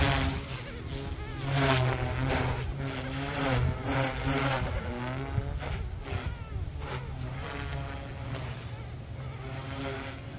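An OMPHobby M2 EVO RC helicopter flies at low rotor RPM, giving a steady droning whine that shifts gently in pitch, heard from moderately close with a voice faintly underneath.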